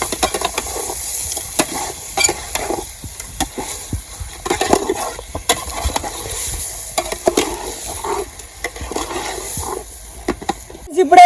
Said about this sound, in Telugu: చికెన్ అయితే వేసుకున్నాక బాగా అయితే కలుపుకోవాలి